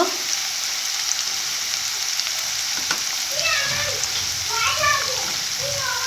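Spices and soybean chunks fry in hot white oil with chili powder, giving a steady close sizzle with stirring, while a voice speaks over it.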